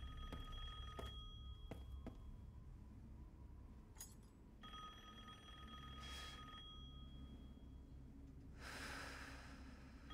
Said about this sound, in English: Hear a phone ringing